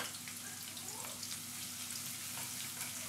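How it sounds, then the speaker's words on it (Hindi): Onion and white cumin sauté in a pan, a soft, steady sizzle with faint crackles under a low constant hum. "हम प्याज सौते कर लें पहले, बहुत थोड़ी सी प्याज ली है।"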